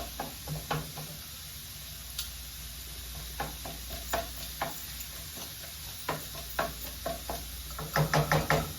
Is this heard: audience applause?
no